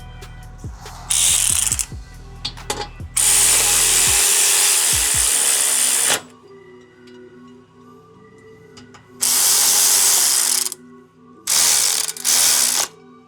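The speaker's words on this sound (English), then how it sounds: "Once it's threaded, then I'm gonna use my impact gun." An impact gun hammers on the brake caliper bolts of a Subaru Ascent, rattling in three loud bursts of several seconds each, with short ratchet-like clicks and quieter mechanical noise between them.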